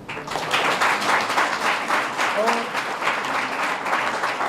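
An audience applauds steadily at a district nursing training centre event, a dense sustained clapping close by, with a voice briefly audible over it.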